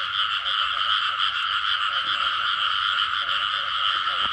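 Frogs croak loudly at night during frog-catching season, a dense, continuous chorus of rapid pulsing calls filling the air close by, steady and uninterrupted with no talking.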